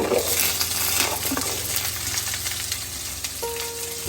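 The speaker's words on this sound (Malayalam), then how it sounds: "ഇത് നല്ലപോലെ വഴറ്റിയെടുക്കാം" Onions and shallots sauté in a pan for a beef curry, giving a steady, close sizzle and frying hiss with faint stirring.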